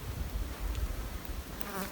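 Flies buzzing outdoors on a hot day in desert trail country, a close, continuous insect drone over soft rustling background, with no one talking.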